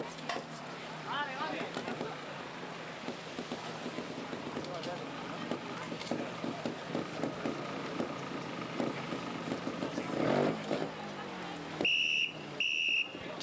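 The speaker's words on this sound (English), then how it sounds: "just getting the 2-minute whistle there" At a 1994 World Trials Championship motorcycle trials section in Tossa de Mar, Spain, a sharp two-minute warning whistle sounds in two short blasts near the end. Before it come quieter outdoor noise and faint voices.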